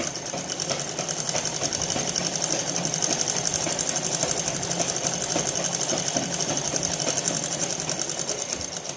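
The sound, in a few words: sewing machine stitching a blouse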